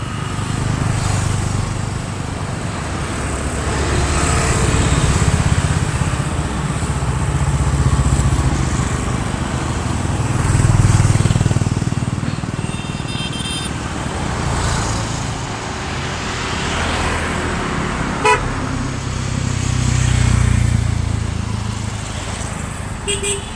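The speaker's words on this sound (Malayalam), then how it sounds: "കണ്ടോ അത് ഹൗസ് ബോട്ടാണ് പോകുന്നത്" A houseboat engine on Ashtamudi Lake in Kollam churns as a steady, low motor drone that swells and eases at intervals, heard outdoors across open water with faint ambient background.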